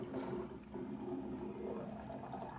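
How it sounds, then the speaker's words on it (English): Synthetic vinegar is poured through a funnel for a balloon-inflating experiment, a steady continuous liquid gurgle and trickle running the whole time, moderately quiet and close, with no talking. "we're gonna get our synthetic vinegar, and we're gonna open a lid, and we're gonna have to pour it down"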